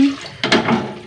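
Water gushes into a pressure cooker holding four large potatoes and salt, starting abruptly partway through as a close, splashing pour that runs steadily to the end.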